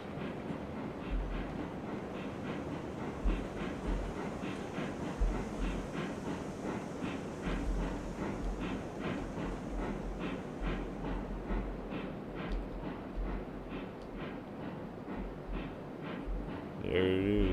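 A train running on rails in the game RailRoads Online, with a steady rumble and a regular rhythmic clatter sustained throughout and a slight rise at the very end.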